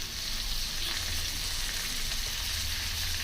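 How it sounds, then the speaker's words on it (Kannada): Onions frying in a pan until they darken, a steady broadband sizzle with faint low hum underneath, continuous and close throughout with no voices. "ಈರುಳ್ಳಿ ಚೆನ್ನಾಗಿ ಕಾಯಿಸಿ ಚೆನ್ನಾಗಿ ಈ ಥರ ಕಪ್ಪು ಬರಬೇಕು, ಆ ಥರ ಕಾಯಿಸ್ಬೇಕು."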